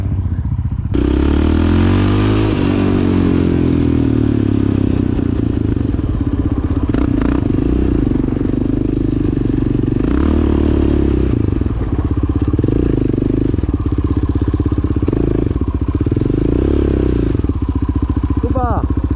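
A Yamaha Raptor 700 quad bike engine revs loudly and close, rising and falling in repeated throttle surges over a constant rumbling idle, with people talking at times underneath.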